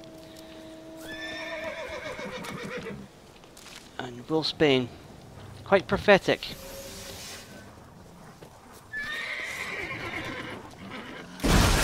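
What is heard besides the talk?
horse neighing in a video game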